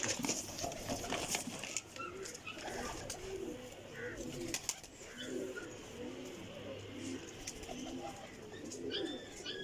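A black Rampuri pigeon coos in a series of low, repeated rolling calls close by, with faint chirps and background movement around it.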